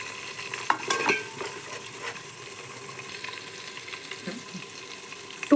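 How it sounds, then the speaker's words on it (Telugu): Cumin and coriander seeds fry in hot oil with a steady low sizzle, broken by a few scrapes and clinks of stirring in the pan, close by, with no talk. "జీలకర్ర వేసి బాగా వేయించుకోండి."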